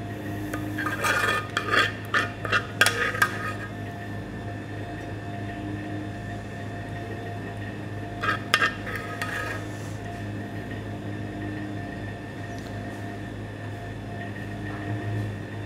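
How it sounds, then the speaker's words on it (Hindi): Metal spoon scraping and clinking against a pan or plate while sauce goes onto fried chicken parmesan, with two short clusters of clatter over a steady kitchen hum and quiet stretches between. "इसके ऊपर अब हमने डालनी सॉस जो हमने सॉस तैयार की थी"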